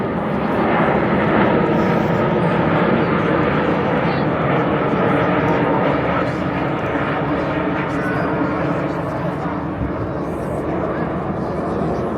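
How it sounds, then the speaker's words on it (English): An RAF Typhoon fast jet rolls through an air display at Blackpool, its loud continuous engine roar filling the scene while a commentator's voice runs over it. "from the right, Typhoon roll"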